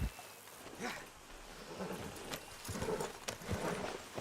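Horse hooves clip-clopping in Red Dead Redemption 2, a soft, fairly distant run of uneven hoof knocks on the ground under a low, steady background hum.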